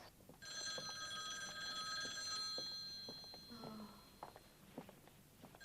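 A telephone rings indoors with a steady bell tone for about two seconds, then stops, followed by soft footsteps and handling noises.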